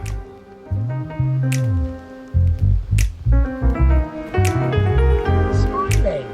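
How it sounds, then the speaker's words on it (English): A little water is poured into the bottom of a container holding a foraged autumn flower display, producing close, fairly loud gurgling drips and bubbly, ringing splashes that go on throughout. "I'll add a little bit of water in the bottom just so they don't completely shrivel up"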